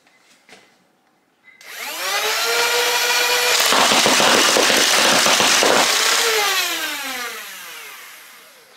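A NERF EMission V6 flywheel blaster with its barrel removed fires on full auto. Flywheels whine as they spin up, then a loud, continuous rattling stream of darts runs for several seconds before the whir winds down, with no voices.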